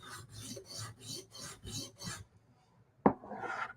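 Rhythmic back-and-forth rasping strokes of a knife bevel on a sharpening stone, about eight steady passes, close and moderately loud, then a pause and a sharp tap followed by a softer scrape.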